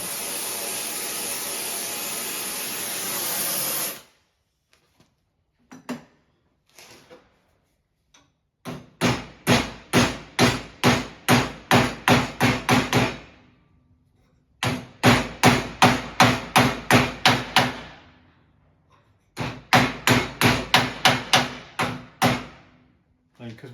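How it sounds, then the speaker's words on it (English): Metal rod ends, heated with an oxy-acetylene torch, being hammered flat in a race car workshop: bursts of sharp, ringing hammer blows in rapid runs of about ten strikes, with pauses between sets, after an opening stretch of steady torch hiss. "we'll just heat the ends up, bash them flat"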